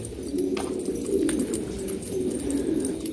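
Pigeons cooing in a loft where chicks are being raised, low, steady, overlapping coos close by with faint background noise and no talking.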